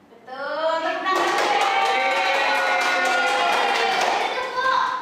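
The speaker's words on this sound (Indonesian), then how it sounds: "Tepuk tangan." A classroom of children in an Islamic jurisprudence lesson bursts into clapping and cheering after a voice, keeping up a dense, steady round of applause for several seconds before it begins to thin.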